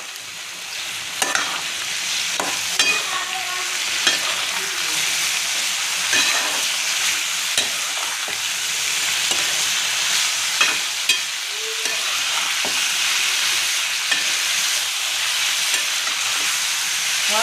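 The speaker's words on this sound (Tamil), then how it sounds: "நல்லா கிண்டி விட்டுக்கலாம்." Brinjal with turmeric fries in a pan and is stirred repeatedly, giving a constant bright sizzle punctuated by irregular scrapes and taps of the spoon, close and fairly loud, with no talking.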